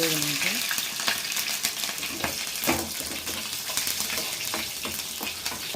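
Green chillies frying in a pan for a fish curry, a close bubbling sizzle with a few stirring scrapes, fairly loud throughout.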